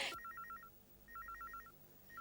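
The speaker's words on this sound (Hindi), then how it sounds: "देखो बेटा, कितनी देर से टेलीफोन की घंटी बज रही है।" A telephone bell rings in repeated electronic warbling bursts, a sharp knock at the very start, then two bursts with a short gap and a third beginning, fairly faint indoors.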